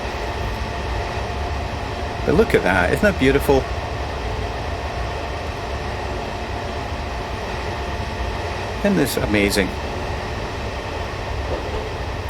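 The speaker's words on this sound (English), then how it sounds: "I want you to be able to hear the train" A train in Train Sim World 2021 runs with a steady, even rumble and hum underneath, while a voice talks over it in two short bursts.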